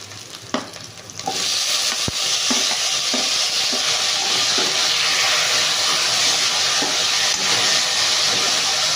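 Tomatoes go into a pan of frying curry leaves for an eggplant dish, and a loud, continuous sizzle with steamy hiss follows, broken by occasional stirring scrapes, close up and without talk.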